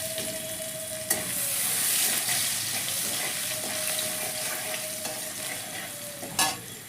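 Garlic paste fries with chicken in a small amount of oil, producing a steady hiss and crackle, broken by a couple of sharp clanks of a utensil stirring the pan.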